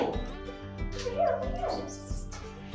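A rescue dog at a volunteer photo session whimpers and gives short yipping barks, close and fairly loud, with soft thumps in the background.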